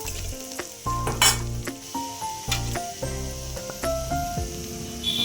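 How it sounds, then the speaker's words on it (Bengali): Turmeric and chili powder masala with ginger frying in a pan for a vegetarian soybean and potato curry, a steady close sizzle with stirring scrapes and a brief louder hiss partway through, over a low musical background. "তার আগে আমি দিয়ে দিচ্ছি হলুদ আর লঙ্কার গুঁড়ো, দিয়ে ভালো করে মশলাটাকে কষিয়ে নিচ্ছি"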